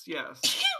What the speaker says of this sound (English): It was a very appropriately timed sneeze.